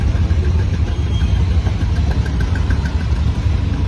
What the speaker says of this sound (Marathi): फुल ट्रॅफिक आहे.